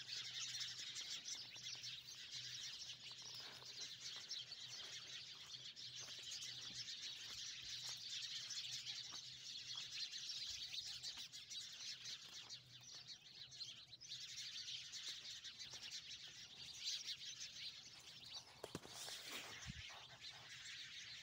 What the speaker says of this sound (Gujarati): આખું ઝાડ ચકલાઉનું ફેર્યું છે।